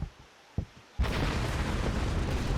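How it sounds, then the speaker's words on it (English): A secondary explosion aboard RMS Lusitania in a ship-sinking simulator game: after a few quiet thumps, a sudden heavy blast erupts at about one second into a sustained, loud, broad rumble that lasts to the end. "Secondary explosion, there you go."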